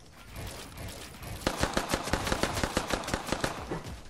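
Rapid automatic gunfire from a Fortnite match, a loud close burst of evenly spaced shots lasting a few seconds after a brief lull of game ambience.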